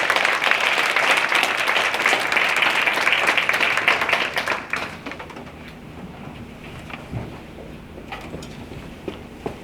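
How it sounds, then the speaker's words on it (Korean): Audience applause at a church testimony gathering, loud dense clapping for about the first five seconds, then fading into scattered claps and quiet room noise. "귀한 간증을 해주신 김충성 선배님께 다시 한번 큰 박수 부탁드리겠습니다"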